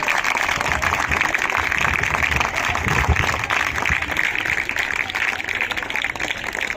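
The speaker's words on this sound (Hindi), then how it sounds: "जोरदार ताली सर के लिए।" An audience at a talk gives a long, dense round of applause for a speaker being welcomed on stage, many hands clapping steadily and loudly without pause throughout.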